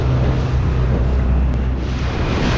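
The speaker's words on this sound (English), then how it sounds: "the wind is blowing like crazy. 30 knots." Strong 30-knot wind roars across the microphone during a dinghy ride in Guadeloupe in the Caribbean. It is a loud, constant buffeting rush with water noise underneath.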